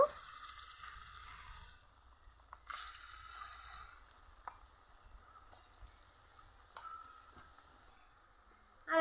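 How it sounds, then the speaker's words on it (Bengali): Spoonfuls of masala-coated peanuts go into hot oil in a frying pan, giving a soft, fairly quiet sizzle that swells in brief bursts as each batch drops in, then settles to a low bubbling hiss. "এভাবে চামচ দিয়ে বাদাম তুলে তেলের মধ্যে দিব"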